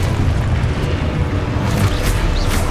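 Booming spell explosions from Hogwarts Legacy erupt in a heavy, continuous low rumble, loud and close, with bursts layered on one another and no speech.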